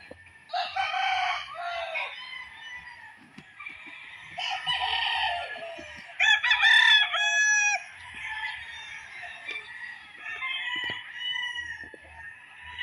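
Chickens and roosters at a gamefarm crow repeatedly, several overlapping cock-a-doodle-doo calls at close to moderate distance, with scattered clucks in between and no speech.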